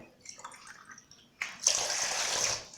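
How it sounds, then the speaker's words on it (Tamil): After a quiet start, a steady rush of water, about two tumblers, pours into a cooking pot for about a second and a half, loud and close. "இதுலையும் ஒரு ரெண்டு டம்ளர் தண்ணி ஊற்றுறேன்"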